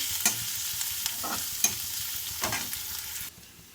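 Okra stir-fries in a pan with ginger garlic paste and turmeric, a steady sizzle punctuated by several spatula scrapes and clacks, then drops sharply quieter near the end; no speech.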